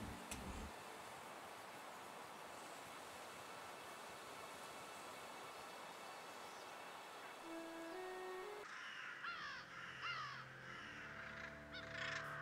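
Crows caw repeatedly in the video game Doggone, harsh calls set over a steady, eerie ambient background of game music and noise.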